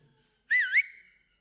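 A single short whistle rises and wavers for about a third of a second, then trails off into a faint sustained tone, heard close in a quiet room.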